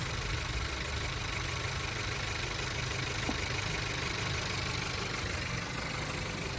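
A car engine idles steadily right after being jump-started, a continuous low drone held at an even level throughout with no talk over it.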